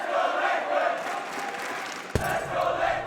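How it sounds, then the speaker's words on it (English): Esports arena crowd of FaZe Clan fans roaring steadily through a CS match at the BLAST Global Final in Bahrain, a dense sustained wash of cheering with a brief sharp bang near the end. "I'm hearing a lot of FaZe fans."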